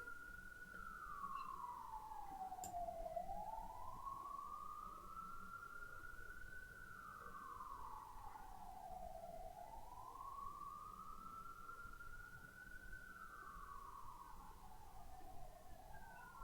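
Two ambulance sirens wail together in the background, steady and continuous, their rising and falling sweeps overlapping under a low hum with no talk.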